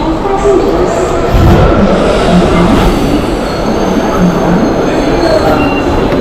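A train rumbles past very close and loud, with a steady roar of wheels on rails, rattling wagons and faint squealing throughout, heard alone without talk.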